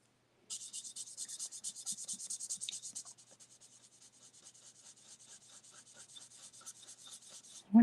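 Quick back-and-forth strokes of a marker or pencil coloring on paper for a handmade card, a faint, close scratchy rhythm that slows and lightens partway through.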